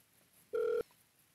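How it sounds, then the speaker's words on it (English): A single short electronic telephone tone, heard on a call placed from a rotary dial phone, sounds clearly for about a quarter second against a quiet background. "It's ringing."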